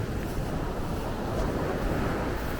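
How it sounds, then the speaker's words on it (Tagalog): Heavy surf of big sea waves on a beach in Zambales, Philippines, rumbling continuously close by, low and dense, mixed with wind buffeting the microphone. "Ang laki ng alon."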